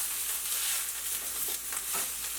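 Mushrooms in a pan with olive oil give off a soft, steady frying sizzle while being stirred, faint and close, with a few brief scraping sounds partway through.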